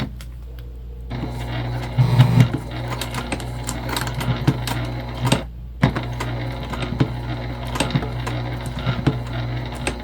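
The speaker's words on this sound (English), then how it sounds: "And I'm just back stitching, making sure our thread catches." A sewing machine back stitching on a travel sling bag, its needle running in a close, rapid mechanical chatter with a brief pause midway before resuming.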